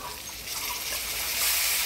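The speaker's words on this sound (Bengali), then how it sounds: "দিয়ে দেবো অল্প জল" Water poured into a hot cooking pan of frying potatoes and ground spice paste, a short hissing gush that swells slightly toward the end, no speech.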